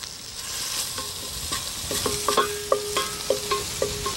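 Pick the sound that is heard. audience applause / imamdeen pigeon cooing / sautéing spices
sautéing spices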